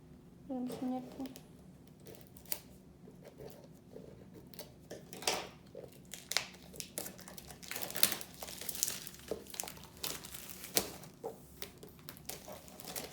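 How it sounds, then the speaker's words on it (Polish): Protective plastic film is peeled off a framed diamond painting, giving close, irregular crinkling and crackling for several seconds while a person talks quietly. "może ja ściągnę tą folię, może nie będzie się tak odbijać"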